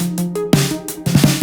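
A sampled 80s wave pop snare drum, the classic original in its real-life acoustic form, struck in a short sequence of sharp hits with ringing tonal body, heard alone with no talking.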